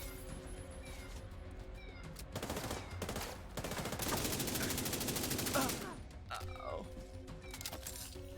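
Sniper rifle fire and heavy gunfire in the Division 2 video game, with a sustained loud barrage of shots in the middle against a steady game ambience, followed by scattered single cracks.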